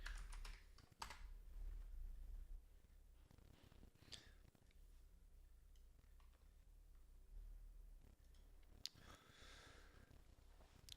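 Computer keyboard typing while entering a command in 3D modeling software: soft, scattered key clicks with a few sharper taps, fairly quiet and close, with no talking.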